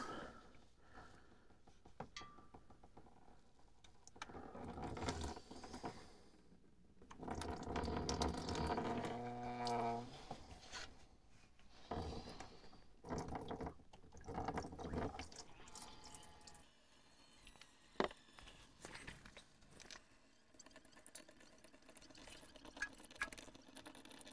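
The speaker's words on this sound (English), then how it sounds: "you can kind of see now the oil's coming out of that drain tube" Transmission fluid draining from a drain tube under a car during a pan and filter replacement, a faint trickling and dripping flow with intermittent splashes and soft handling noises.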